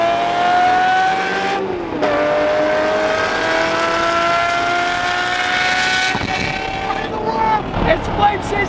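A Ferrari F40 with straight-pipe exhaust revs hard on a mountain road, its engine note climbing and dropping in sustained pulls with crackling pops on lift-off, loud and close, with voices talking over it.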